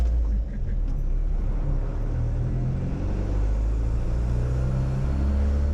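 Inside a 1970 Plymouth Satellite swapped to a 4BD1T 3.9 diesel, a steady low engine drone and road rumble fill the cabin with a constant loose rattle, no voices.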